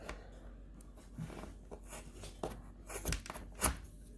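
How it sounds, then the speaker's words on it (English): A few quiet snips and clicks of scissors trimming excess thread at a wrapped bead, irregularly spaced, with soft handling noises and faint room background between them. "I'm going to cut off the excess right there"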